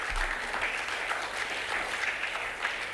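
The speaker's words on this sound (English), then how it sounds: "can we give them a hearty clap to our students?" An audience at an industry summit during innovation week claps for students, a steady dense wash of applause that runs the full length of the clip with no talk over it.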